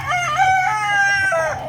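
A big, mature fighting rooster of a year or more crows once, close and loud, in a long drawn-out cock-a-doodle-doo over a low background hum.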